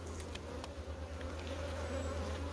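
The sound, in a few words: honey bee swarm buzzing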